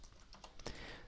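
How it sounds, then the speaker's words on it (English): Keys tapped on a computer keyboard in a short burst of quiet, close clicks with no talk over them. "Now I'm typing out the terms region"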